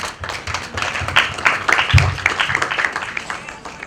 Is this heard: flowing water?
no